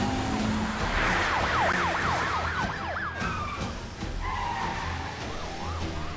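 A car chase in The Amazing Spider-Man 2 game carries a wailing police siren sweeping up and down over steady traffic and engine rumble, with brief tire skids and a second siren joining later.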